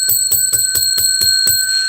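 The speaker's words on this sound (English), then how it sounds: "Oh, yeah, I got to ring the bell." A bell rings eight times in a quick, steady series, each strike bright and metallic with a lingering tone, close by and with no voices.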